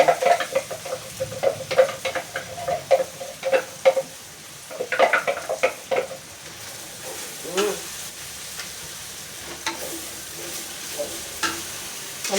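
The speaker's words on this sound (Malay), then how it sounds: "Sambil tu kita tengok daging kita. Dia kita goreng layu-layu je." Meat sizzles and crackles in a hot pan, lightly fried, with bursts of stirring and scraping between quieter stretches of frying.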